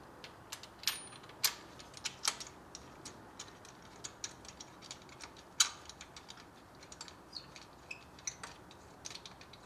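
Ratchet socket wrench clicking while a spark plug is threaded and tightened into a Ford Focus engine, a quiet irregular series of short metallic ticks and clicks with no talk.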